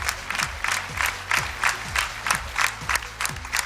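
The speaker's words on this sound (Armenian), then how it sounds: "ճանապարհ ենք Վահեին ծափահարություններով" A studio crowd on a televised singing contest applauds contestant Vahe, with loud, rhythmic bursts of clapping and cheering about twice a second over a pulsing backing track.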